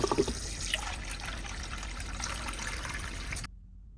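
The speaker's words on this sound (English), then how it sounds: "Cover with cold water." Cold water pours steadily into a pot of lamb chops, a close, even rushing fill that cuts off abruptly near the end.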